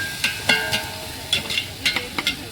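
Biryani tempering frying in a large pot at an outdoor feast at Talupulamma Lova, with spaced scraping stirs and short clanks over a soft background sizzle.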